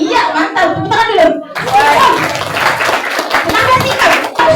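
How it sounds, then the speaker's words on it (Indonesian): Children clapping their hands together in a classroom, a dense burst of applause close by that swells after a brief chatter of voices and continues steadily, with kids talking over it. "Tepuk tangan dulu."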